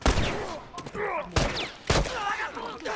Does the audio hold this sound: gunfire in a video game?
yes